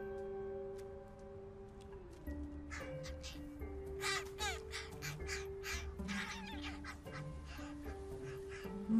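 Young crows hatched two weeks earlier in Seattle nests, repeated harsh cawing and raspy calls close by over steady background music, with narration around them.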